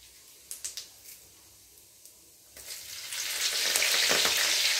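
Mustard seeds, cumin and curry leaves tempering in hot oil: a few small clicks and taps at first, then a rising, loud sizzle that swells and stays strong near the end, close by with no talking.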